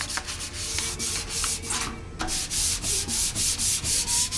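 Primer on a Honda NS 250 two-stroke motorcycle part being sanded by hand, a close, continuous rasping scrub in rhythmic back-and-forth strokes with a short pause midway.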